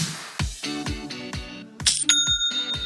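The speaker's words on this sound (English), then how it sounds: "That's the sound of another sale, another dollar, another customer on your Shopify e-commerce store." Shopify new-sale notification chime: a bright, ringing bell-like ding that lingers near the end, following a short phrase of plucked musical notes.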